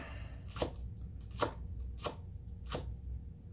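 A Bunka knife chopping vegetables for pico de gallo on a cutting board, four crisp, evenly spaced cuts about two-thirds of a second apart, close and clear.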